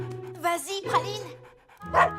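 A small female dog, likely a cartoon pet, gives a few short yapping barks mixed in with voices talking over them.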